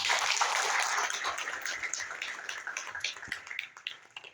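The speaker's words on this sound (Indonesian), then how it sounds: "Aplaus untuk kita semuanya" Closing applause from the audience at a teachers' workshop, a loud wash of clapping that gradually thins into scattered individual claps.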